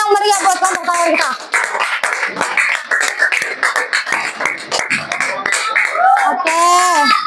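Schoolchildren in an elementary classroom clap together for the final group, a dense rhythmic patter of small hands with excited young voices and shouts rising over it near the start and end.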